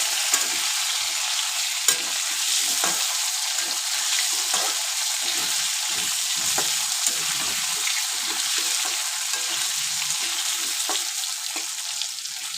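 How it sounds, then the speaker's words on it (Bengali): Cut potatoes fry in oil for a hilsa fish curry with eggplant, a dense continuous sizzle heard up close with scattered soft clicks of stirring, no voices present. "আলুটা একটু ভাজা ভাজা হয়ে গেলে তখন আমি বেগুনটা দেবো।"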